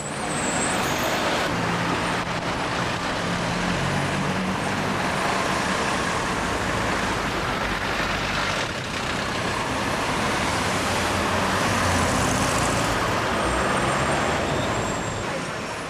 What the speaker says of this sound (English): Yet another northbound bus was RM 1145.